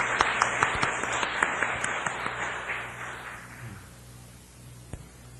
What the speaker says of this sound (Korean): 우리 청년들에게 우리 격려의 박수를 주시기 바랍니다